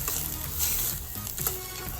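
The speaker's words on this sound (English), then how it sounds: "Let it sizzle a couple of minutes." Food sizzles steadily in a hot pan with water boiling in, a constant crackling hiss with occasional stirring clinks, close up, while cooking cashew gravy for vegetarian poutine.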